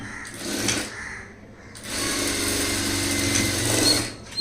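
A sewing machine runs a seam along a blouse shoulder, a short whir that pauses and then resumes as a steady, close rattling hum for several seconds.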